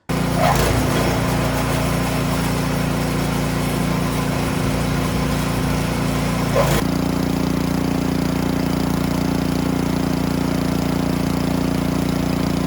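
Powersmart snowblower running steadily with its auger spinning, a loud continuous small-engine drone close by that shifts pitch and texture partway through, with no talking.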